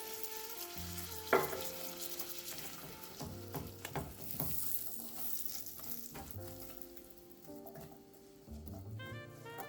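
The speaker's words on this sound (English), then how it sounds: "Give this a stir to ensure that this butter and the sweetener coat these pecans" Toasted pecans being stirred in a pan with melting butter and sweetener: a continuous close sizzle with scraping, shifting stirring noises and an occasional sharp knock of the utensil against the pan.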